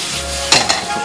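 Mushrooms sizzle in brown butter in a pan, a steady close hiss with two brief louder scrapes of stirring partway through.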